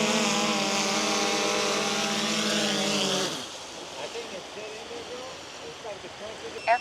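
A camera drone on a fishing trip at the Texas City Dike gives a loud, steady, high-pitched propeller whine with strong tonal harmonics, then cuts off sharply as it lands, leaving quieter wind and rustling.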